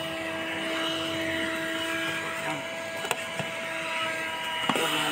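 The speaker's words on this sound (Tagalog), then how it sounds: "Lahat ng sulok-sulok. Vacuum mo." A vacuum cleaner runs with a steady whine and roar while cleaning along corners and edges, with a couple of small clicks and knocks and some talk under the motor.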